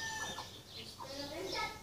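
A chicken clucks in an outdoor setting in Mexico, the calls fairly close amid steady background noise and other faint bird sounds.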